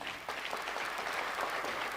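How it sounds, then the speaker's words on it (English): Sustained, even applause from a seated crowd at a National Defence University Kenya graduation ceremony, a dense steady patter filling the whole moment. "A round of applause, please."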